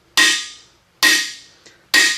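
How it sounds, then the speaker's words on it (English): Three loud, sharp metallic hammer blows about a second apart, each ringing briefly, with one faint light tap between the second and third, struck while assembling a 426 Hemi engine. "But this is taking an extraordinary amount of hammering."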